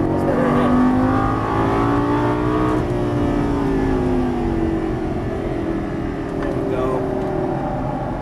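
Lamborghini Gallardo LP550 accelerating out of a turn on a track, a loud, steady engine roar whose pitch climbs and falls close by. An instructor talks over it.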